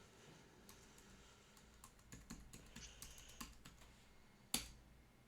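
Steady, quiet clacking of a computer keyboard with bursts of keystrokes and a sharp final key strike, heard alone with no talk.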